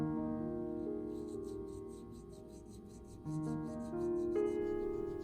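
The metal case of a WWII-era watch is polished down to bare base metal: a continuous close rubbing over a steady mechanical whir, with the pitch stepping up a couple of times.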